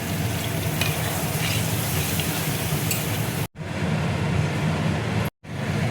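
Spices for a fish curry sizzle loudly in a pan as water goes in, a steady broadband crackle that holds throughout and drops out briefly twice.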